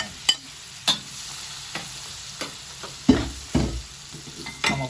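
Onions and green spring onion frying in a pan for a spicy prawn and vegetable dish, with scattered stirring scrapes and clinks over a soft steady sizzle, close and moderately loud.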